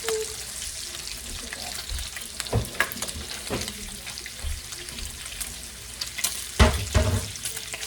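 Bacon sizzling and crackling in a pan, continuous close-up frying with sharp pops and a few louder spatters and utensil knocks near the end; no speech.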